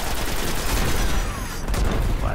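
Dense, loud gunfire from a weapon in the video game Destiny, a continuous burst of rapid shots filling the scene with a brief dip partway through.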